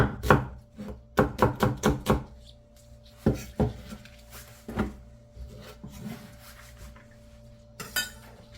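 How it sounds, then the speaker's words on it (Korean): Kitchen knife slicing vegetables and half an onion on a cutting board, quick bursts of crisp chops in rapid runs, then scattered single cuts and a final short flurry, close and clear. "3개를 동글동글하게 납작하게 썰을 거예요. 양파는 반개만 썰어서 넣습니다"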